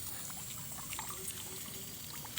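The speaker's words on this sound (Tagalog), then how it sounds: "Guys, water gun." Water squirts and trickles from a water gun during a house tour in Sual, Pangasinan, a thin splashing flow that stays faint and continuous throughout.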